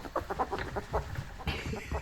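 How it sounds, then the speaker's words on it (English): A ferret dooking, a rapid bubbling chuckle made during play, heard as quick, soft, repeated clucking bursts close by with no talk over it. "It's called dooking, a bubbling chuckle that says, "I'm having fun.""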